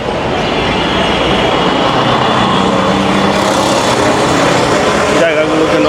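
A metro train near a station rumbles past steadily with a broad, continuous roar and faint metallic rail clatter, close by and loud throughout.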